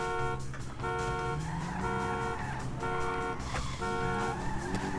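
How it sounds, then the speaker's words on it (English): A car drives in a video game, its engine revving up and shifting over layered game music and sound effects. The mix stays loud and dense throughout, with no talking. "let's see how fast this car goes"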